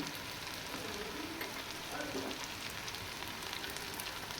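Tomatoes and green chillies sizzle and fry steadily in a pan with onions for a dhaba-style bitter gourd curry, a continuous close crackle with no talking.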